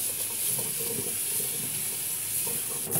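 Kitchen sink sprayer spraying water over fresh produce such as dandelion leaves, with the drain open; a steady, close hiss of rinsing water runs unbroken throughout with no talking.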